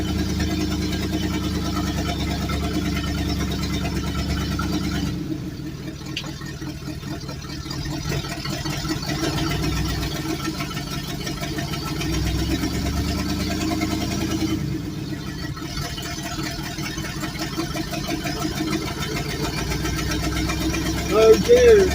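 A car engine running low and steady while the car creeps very slowly in reverse, a loud, continuous rumble with slight shifts in tone, close by throughout.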